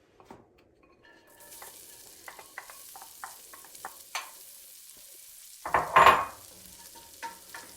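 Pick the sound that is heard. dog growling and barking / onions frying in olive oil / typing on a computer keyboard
onions frying in olive oil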